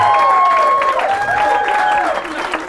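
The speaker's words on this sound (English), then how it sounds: "Give them a round of applause for how beautiful it" Wedding guests applaud the bridesmaids in green dresses, a dense, steady wash of clapping through the whole stretch with a sustained, gliding tone riding over it.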